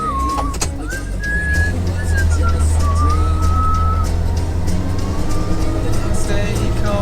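A John Deere tractor drives along a field headland near a barbed wire fence: a loud, steady low engine drone with a wavering high whine riding over it, close and continuous.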